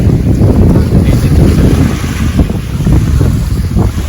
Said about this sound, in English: Nice little sail today, first reef in, main head sail, doing sort of 7-8 knots